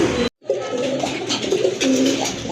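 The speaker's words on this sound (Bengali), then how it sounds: "আরেক জোড়া কবুতর, রাজগোল্লা কবুতর, খুবই সুন্দর দেখার মতো একটা পেয়ার" Pigeons cooing at a pigeon sale, with a pair of Rajgolla pigeons on offer: close, loud throaty coos running almost continuously after a brief silent break.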